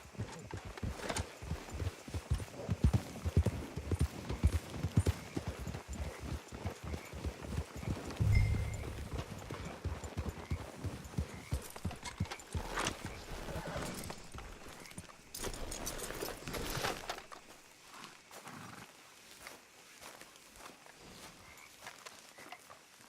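Horse hooves clip-clop steadily at a walking pace in the video game Red Dead Redemption 2, a rapid run of hoofbeats that fades near the end, with occasional snorts and light background ambience.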